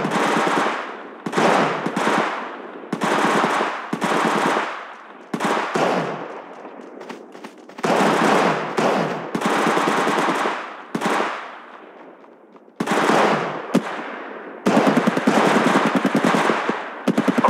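Rapid automatic gunfire in the mobile battle royale Apex Legends Mobile, loud and close, coming in repeated sustained bursts separated by short pauses.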